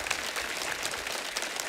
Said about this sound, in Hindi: जोरदार तालियां हो जाए एक बार शबीर भाई के लिए